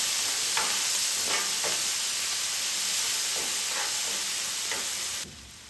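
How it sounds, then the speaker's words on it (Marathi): Cumin seeds and masala frying in hot oil for soya chunk gravy make a soft, steady sizzle with several light spoon scrapes, cutting off abruptly near the end. "इथे मी थोडंसं जिरं टाकून घेणार आहे आणि हा मसाला. तर हे फ्राय करून घेऊया."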